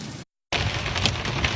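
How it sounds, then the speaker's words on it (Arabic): Hail pelting down beneath a pedestrian bridge over a highway in Kuwait, a dense, loud, continuous clatter and hiss that briefly cuts to silence before resuming at full strength. "للحين قاعد ينزل برد بس كم ينزل"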